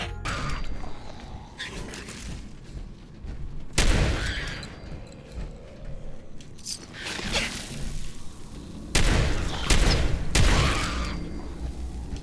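Shotgun blasts ring out in Fallout 4 while fighting ghouls inside a pyramid: several loud, booming shots come a few seconds apart, with one burst of shots near the end, over steady in-game background noise.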